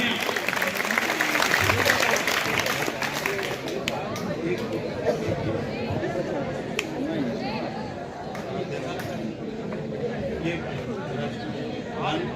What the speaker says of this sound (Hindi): तालियां बच्चों, तालियां